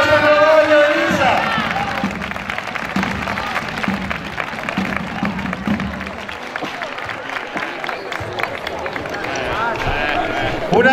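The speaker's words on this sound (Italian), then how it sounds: "Un forte e grande applauso al nostro clavario Elisa!" A crowd at the Castellamonte ceremony claps and cheers for Elisa, the newly named clavario, in sustained applause with voices over it.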